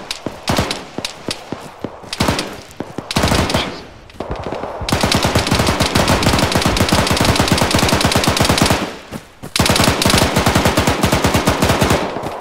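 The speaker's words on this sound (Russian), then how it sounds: "Вам пулемет работает, аккуратно. Пулемет работает." Machine gun fire in the military shooter ArmA 3, loud and close, with a few scattered shots followed by long sustained automatic bursts that rattle on almost without pause, briefly broken once before resuming.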